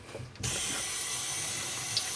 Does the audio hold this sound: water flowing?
yes